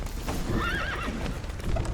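Horses whinny in a burning stable in The Witcher 3, a loud wavering neigh rising over crackling, clattering background noise, with hoof-like knocks and no voices.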